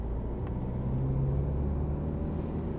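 A car engine accelerates steadily during a driving lesson, a continuous close low rumble with a brief rising drone, no talk over it.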